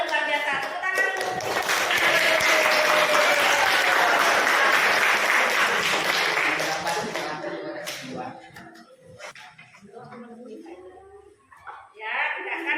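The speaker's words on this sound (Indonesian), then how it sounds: "Oke, semuanya luar biasa. Tepuk tangan dulu." Participants in a coaching session break into loud, sustained group clapping with some cheering voices mixed in, fading after several seconds into scattered sounds and talk.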